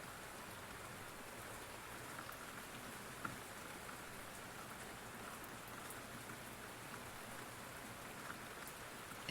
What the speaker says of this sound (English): And allowing yourself to take in this nourishing rain.